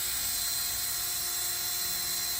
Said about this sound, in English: It's a lot easier to do it this way with the drill